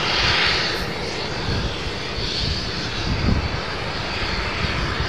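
A Boeing 747 at Amsterdam Schiphol gives off a steady, broad jet roar, loud and continuous, with no voices over it.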